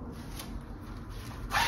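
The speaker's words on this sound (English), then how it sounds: "there are zippers on each side" Short zipper pulls on a windproof winter jogging jacket, a few quick faint rasping strokes close by ending in a louder scraping sweep.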